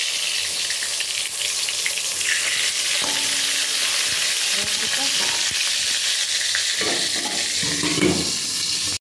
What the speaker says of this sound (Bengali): বেগুনটা ভাজতে বসিয়েছি।